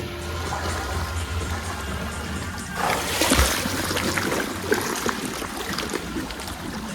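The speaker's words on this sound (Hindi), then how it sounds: "तो अभी हम सब लोग स्विमिंग पूल के मज़े यहाँ पे ले रहे हैं" Water splashing in an outdoor swimming pool in Dehradun, a broad rushing wash that swells after a few seconds and continues with scattered splashes, fairly close and steady.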